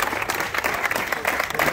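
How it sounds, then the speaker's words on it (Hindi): A short burst of dense, lively applause from a group at a physical fitness academy, loud and close, with rapid overlapping claps throughout. "जोरदार ताली रहे"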